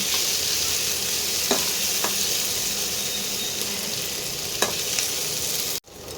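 Sliced onions and green chillies fry in hot oil with a loud, steady sizzle, broken by a few scraping stirs of a spatula, close by and without talk.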